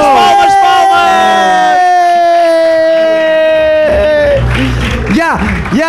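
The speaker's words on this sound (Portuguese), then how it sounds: "Palmas." A lively crowd at a live podcast recording lets out a long, loud whistle, then breaks into cheering, whooping and scattered clapping, close and boisterous.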